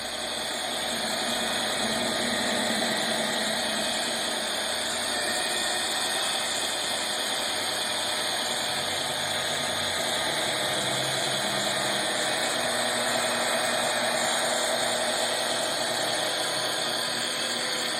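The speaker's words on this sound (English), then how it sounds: "we can take the whip marks of the buffer wheel out when we put it flat" A rotary buffer polishes heavily oxidized boat gelcoat with a continuous, steady motor drone and a faint grinding hiss, holding at an even level for the whole stretch with no talking.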